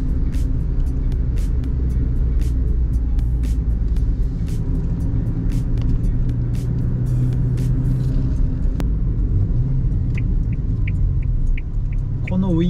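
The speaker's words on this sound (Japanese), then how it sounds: "このウインカーの音俺大好き。" The turn signal of a Suzuki Alto Turbo RS (HA36S) ticks in a steady, regular rhythm inside the cabin, sitting over a loud, continuous engine and road rumble.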